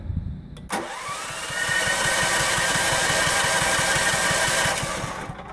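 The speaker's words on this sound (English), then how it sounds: "that's the plasma ignition system on the generator, and it works really good" Generator engine with a plasma ignition system cranks and catches after a sharp click, then runs loud and close with a steady rapid pulsing before dying away at the end.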